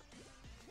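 A man imitating a dog's bark during a Fall Guys game, a few soft yipping whimpers followed by one short, loud bark-like shout at the end.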